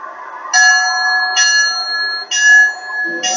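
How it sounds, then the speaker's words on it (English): A hook and ladder fire truck's bell rings loudly and close, four clear metallic strikes spaced about a second apart, each ringing on as it decays. "That's the bell rope, Rascal."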